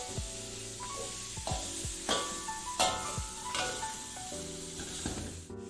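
Galangal, lime leaf and spices being sautéed in a pan, with a low sizzle under repeated scraping and stirring strokes that come close and moderately loud, spaced about every second.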